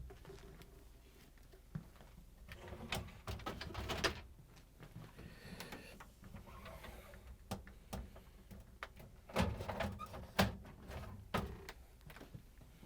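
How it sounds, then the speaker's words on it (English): Plastic crisper drawers slide out of an LG/Kenmore refrigerator, giving a string of light rattles, knocks and scrapes, with clearer clunks around the middle and near the end, close and moderately loud, with no talking. "we're going to remove these three drawers. All you have to do is pull them out,"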